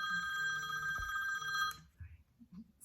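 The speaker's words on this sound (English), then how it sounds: "I should have put my phone on silent when I did this." A phone rings indoors with a bright, steady electronic ring tone. It stops abruptly partway through, leaving only faint low room noises.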